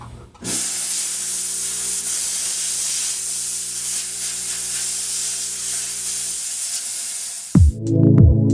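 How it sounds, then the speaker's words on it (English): A jewelry steamer blasts hot steam onto an 18k gold watch, a loud continuous close-up hiss lasting several seconds before cutting off, followed by a short clatter and a brief burst of talk. "Just hold it under the steamer, which emits really hot steam"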